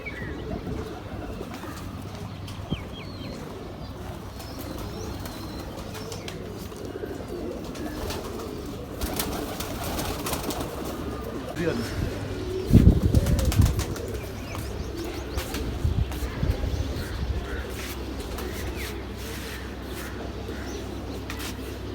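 Pigeons cooing softly over a steady background hum, with a brief burst of wing flapping and scattered chirps partway through.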